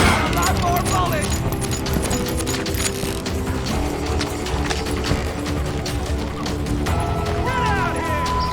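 Rapid, repeated shots ring out through the Wild West shooter Call of Juarez: Gunslinger, a busy stream of gunfire with clattering impacts and other game effects running steadily throughout.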